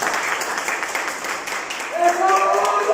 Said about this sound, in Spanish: le damos un aplauso a su compañero